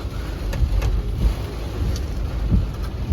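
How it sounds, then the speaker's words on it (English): Heavy rain pours down steadily, heard from inside a parked car, a dense continuous hiss with occasional louder drops and low rumbles. "Check out the heavy rains."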